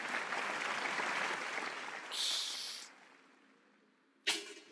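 Fairly quiet applause from the audience at a talk on food, nature and philosophy, fading over a few seconds, followed by a short hiss and then a sharp isolated burst near the end.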